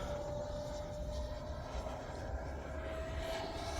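A Freewing Avanti S 80mm RC jet flies overhead, its electric ducted fan giving a steady, continuous whine over a wash of wind and background noise at moderate distance, with no talk.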